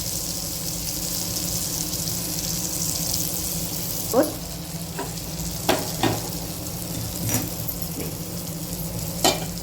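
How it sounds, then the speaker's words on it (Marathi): Fish pieces frying in oil in a pan, a continuous crackling sizzle with a few sharp scrapes and taps of a utensil against the pan. "पीस फ्राय केलेले आहेत किती कडक असे पीस फ्राय केलेले आहेत"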